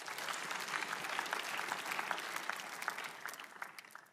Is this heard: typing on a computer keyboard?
no